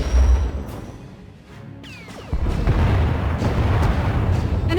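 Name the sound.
enemy warship firing turbolasers and missiles, from video game SWTOR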